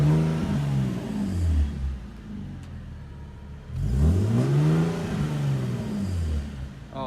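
A Nissan 370Z fitted with a NISMO exhaust revs twice, each sweep rising and falling with a deep, throaty tone, close by and loud.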